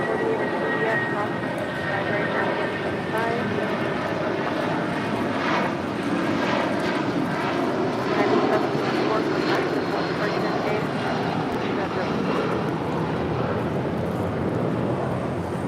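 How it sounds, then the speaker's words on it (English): A United Boeing 757-200 departs for Newark, its engines a steady roar at moderate level across the whole stretch with people talking over it. "This is United 754 departing to Newark on a 757-200."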